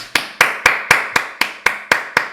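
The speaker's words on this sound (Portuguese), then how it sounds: "Palmas!" Eight sharp, evenly spaced claps ring out one after another at a steady rhythm, crisp and close with nothing else around them.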